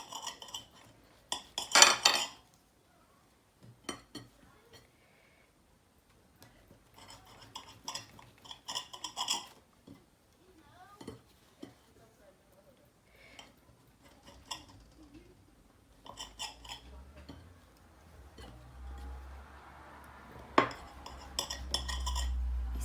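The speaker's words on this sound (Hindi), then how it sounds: "हम लोग डबल रोटी के पीसीस को इसके किनारे काट लेंगे" A knife trims the crusts off slices of white sandwich bread, heard as short, scattered bursts of scraping and rasping against a board, separated by quiet pauses, close and soft, with no voices.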